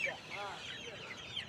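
Black country hens cluck faintly amid a mix of soft bird calls, with someone talking over them close by.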